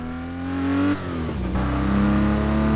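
A car launching and revving in the Test Drive Unlimited 2 racing game, a loud, rising engine drone that dips at a gear change and then climbs again steadily, with no talk.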